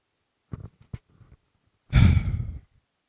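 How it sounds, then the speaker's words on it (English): A person breathes close onto a microphone: a few short puffs and clicks, then one long, heavy sigh-like exhale that rushes loudly before fading into silence. "You breathing onto the microphone like that."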